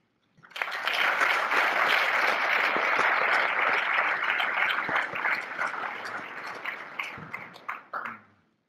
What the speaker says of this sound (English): You can tell it's an enthusiastic crowd when the introducer gets an applause as well.